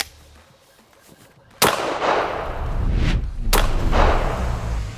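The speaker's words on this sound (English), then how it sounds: "Now we're gonna do a federal slug. This is a 1 ounce slug." A 12 gauge shotgun fires a 1 ounce Federal slug into a watermelon outdoors, giving two loud, sharp blasts about two seconds apart, each followed by a long rumbling echo and ringing, with no talking.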